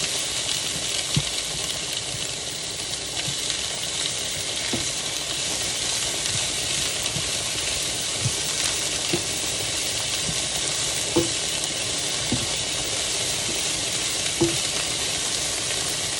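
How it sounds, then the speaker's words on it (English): Chicken scampi sizzles and fries steadily in a pan, a constant bright hiss with scattered pops and light scraping from stirring, close and continuous with no talking. "Gonna give these a good stir."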